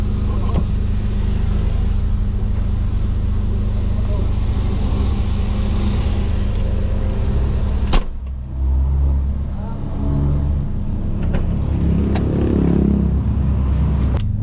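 A motorcycle engine idles loudly nearby with a steady low rumble, a sharp click partway through and a brief dip before it settles back, while a person talks intermittently.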